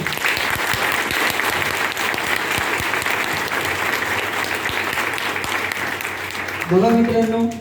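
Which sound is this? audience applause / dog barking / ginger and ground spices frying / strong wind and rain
audience applause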